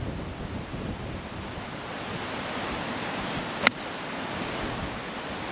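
Gale-force wind gusting across a golf course, a continuous loud roar buffeting the microphone, with one brief sharp click partway through.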